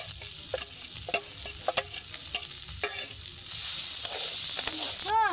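A spiced potato mixture coated in mustard oil sizzles in a wok. It begins with scattered crackles and stirring knocks, then turns into a steady, louder frying hiss.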